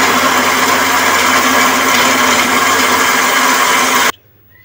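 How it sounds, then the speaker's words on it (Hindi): Blender grinding dried red chillies, cumin and salt for garlic chutney, a loud steady whir running alone for about four seconds before stopping abruptly. "तो चलिए हम इसको अपने ब्लेंडर में डालते हैं।"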